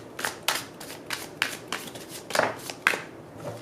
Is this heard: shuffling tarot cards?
yes